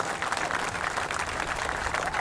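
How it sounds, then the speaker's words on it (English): An audience at a ceremony marking the upcoming opening of the Buck O'Neil bridge gives steady, dense applause throughout for workers in yellow vests, sounding like a sizeable crowd clapping together. "So clap for them as well"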